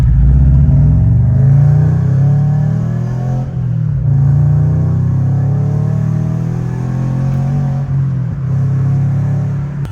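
A rebuilt Subaru BRZ engine, repaired after severe damage, runs steadily with a loud, continuous mid-pitched drone and slight swells, close by with no voices.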